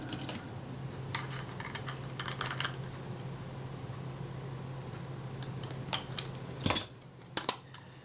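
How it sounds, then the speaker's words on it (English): Retainer ring being tightened on a Kodak Retina II type 014 camera, faint small metallic clicks and ticks scattered over quiet hum, ending in a few louder sharp clacks near the close. "So I will just give that retainer ring a little bit more tightening."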